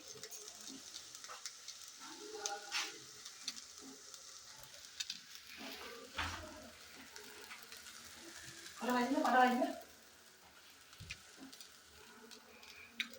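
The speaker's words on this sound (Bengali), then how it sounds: "হয়েছে, ভাজা ভাজা হচ্ছে।" Food frying in a pan, a faint sizzle with stirring scrapes and clinks, quiet and intermittent with a louder burst partway through and a voice speaking at times.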